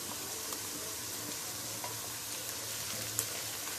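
Chopped tomatoes for tinda masala frying in a pan, a faint, steady sizzle with a few soft clicks of stirring and no voices.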